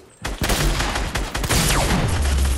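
A dense burst of gunfire in a video game, rapid overlapping shots fired toward the player, continuous and loud after a brief quiet start, with a falling whistle-like sweep partway through.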